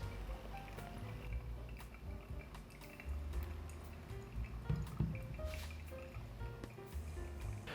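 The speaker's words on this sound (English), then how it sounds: "we pour the water until we reach 210 grams" Water pours from a kettle onto ground coffee in an OREA V3 brewer, a soft, steady trickle with scattered drips and faint clinks, close up and fairly quiet.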